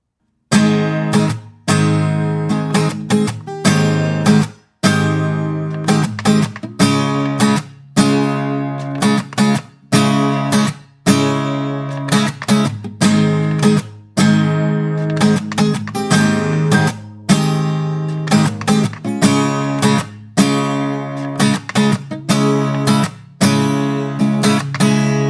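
Acoustic guitar strumming the chords of a song, played alone in a steady, even rhythm of repeated chord strokes with brief pauses, close and fairly loud throughout.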